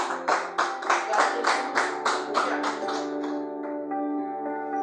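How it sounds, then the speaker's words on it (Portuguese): Church congregation clapping in praise to Jesus during a sermon, a quick run of rhythmic claps with sustained organ or keyboard tones underneath, the claps thinning out and stopping while the music rings on. "Palmas para Jesus"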